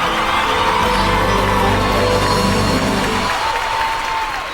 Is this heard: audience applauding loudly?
yes